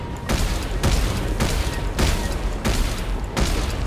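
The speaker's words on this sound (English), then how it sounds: "So here is the plus 2 damage times 3 plasma cutter." Plasma cutter in Dead Space 3, fully upgraded with extra damage, firing six heavy, even-spaced shots about every half second, each a loud broadband burst over a constant game ambience.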